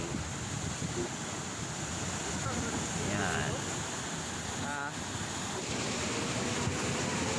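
Constant heavy roar of large ocean waves and wind at Mariveles, Bataan, waves washing continuously, with a brief voice heard faintly under the noise.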